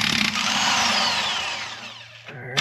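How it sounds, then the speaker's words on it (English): An impact wrench works on a strut bolt of a Subaru Forester, giving one sustained, loud, close mechanical whir that drops in pitch and fades before a brief clunk at the end. "I'm going to take our impact, put it on this side."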